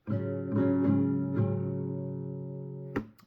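A strummed acoustic guitar chord from a song, top string muted, rings out over several soft re-strums and slowly fades. A brief scrape or click comes near the end.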